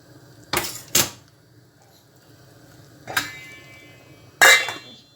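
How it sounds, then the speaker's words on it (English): Chopped gizzard pieces being thrown into a pot of meat for Nigerian ogbono soup, giving four loud metallic clanks against the pot, spaced irregularly and standing out over a quiet background. "So guys, I will throw in my gizzard now."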